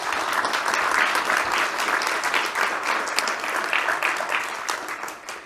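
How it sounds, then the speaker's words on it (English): Audience applause at a leadership forum, a dense crackle of many hands clapping steadily for several seconds before easing slightly at the end. "let's give him a round of applause"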